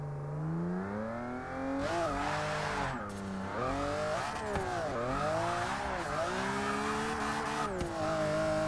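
A wheelie car in Forza Motorsport 6 launches from a standstill, its engine revving hard and climbing through the gears with sharp dips at each shift. The loud, continuous roar plays alone.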